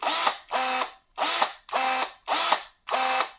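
Six short whirring motor bursts, evenly spaced about half a second apart, from cordless electric pruning shears cycling their blade open and shut, each buzz rising and cutting off sharply with silence between.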